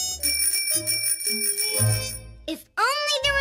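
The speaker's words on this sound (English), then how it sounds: "my scooter bell" A scooter bell rings in several bright, rapid dings, close and loud, followed by a few sliding whistle-like tones in a children's cartoon.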